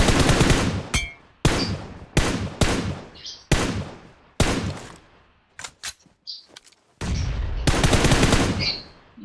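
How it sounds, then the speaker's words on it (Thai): Loud automatic gunfire erupts around a house in PUBG Mobile, coming as several long and short bursts split by brief pauses, with a few faint distant shots in between. "มันยิงกันอยู่บ้านชุบอ่ะ"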